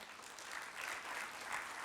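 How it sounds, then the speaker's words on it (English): Conference audience applause at a plenary session of the ITS World Congress, a soft, continuous wash of many hands clapping in a large hall, faint and steady, swelling slightly toward the end. "Big round of applause for the smiles."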